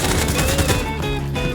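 Loud, dense rapid gunfire crackles in a burst in the video game Arena Breakout Infinite as the player takes hits, with the shots close and overlapping and no voices.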